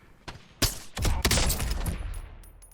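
A Season 6 battle pass weapon fires in Call of Duty Modern Warfare: a single sharp shot, then a loud, dense burst of rapid gunfire that rattles on and fades into a ringing tail.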